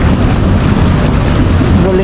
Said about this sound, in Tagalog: Hangin lang pala yan.